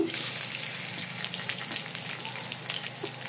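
Chopped onion fries in hot oil in a heated karai, a loud continuous crackling sizzle with faint stirring and no voices.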